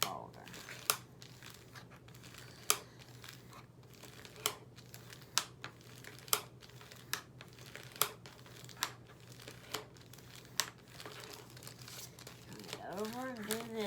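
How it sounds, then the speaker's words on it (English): A bone folder creasing folded paper while making a small handmade journal: a steady series of sharp crinkly rubs and scrapes repeating about once a second, close and fairly quiet, ending with a faint voice. "we're going to fold that up. And we're going to reinforce it with our bone folder"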